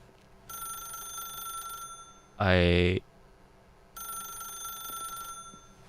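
A telephone in The Stanley Parable video game rings in two long electronic trills separated by a gap, fairly loud and steady, with a short burst of speech in between.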